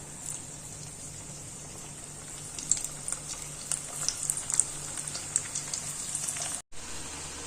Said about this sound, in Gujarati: તો આપણે બાકીના ભજીયા પણ એ જ રીતના તળી લેશું.